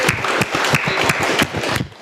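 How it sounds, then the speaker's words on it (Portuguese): A class gives a short burst of rapid, dense clapping at close range, fading out at the end after about two seconds. "Então, salve de palmas para vocês."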